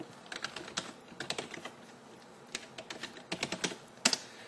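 Fingers typing a login on a computer keyboard, quick irregular bursts of crisp key clicks with short pauses between runs, close and clear with no voices.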